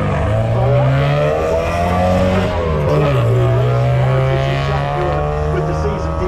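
A Turner sports car pulls away from the start line at a hill climb, its engine revving loud and close and rising in pitch through the gears, while a voice talks over it.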